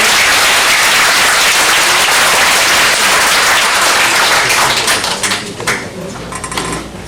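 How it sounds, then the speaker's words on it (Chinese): A high school lecture audience applauding a guest speaker: loud, dense clapping from a large crowd that holds steady for several seconds, then thins into scattered claps. "我们是不是给我们一个最热烈的掌声？"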